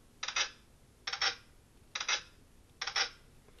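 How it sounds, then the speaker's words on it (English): A small screw being unscrewed and pulled out gives four crisp, sharp clicks at a roughly even pace, close and clear against quiet. "You notice that little clicking sound."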